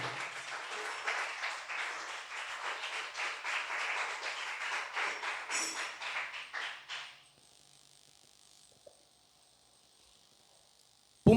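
A church congregation applauds during a pastor's sermon, steady clapping for about seven seconds that then stops abruptly, leaving near-silence with a faint hum.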